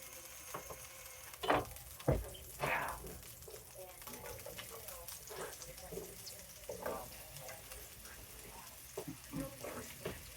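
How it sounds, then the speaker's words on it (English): Zucchini sizzle and fry in a freshly cleaned cast iron pan over a turned-down flame, a steady crackle broken by several sharp clanks and scrapes of stirring, with faint talk at times. "I just cleaned it, so I want to get these zucchini in here cooking"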